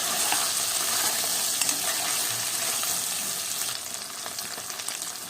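Taro frying in a little oil for chepakalangkara kulambu, a steady close crackling sizzle with bright spitting pops and occasional stirring scrapes, easing slightly toward the end.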